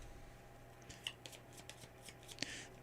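Cards being shuffled during a GI Joe deck-building card game, a quiet riffle of soft papery flicks and a couple of sharper snaps, close and faint over a low steady background hum.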